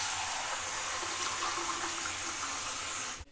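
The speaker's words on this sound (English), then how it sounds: "fill it with hot water." Hot water pours steadily from a tap into a shaving mug, a constant close hiss and gush that cuts off abruptly near the end, with no talking.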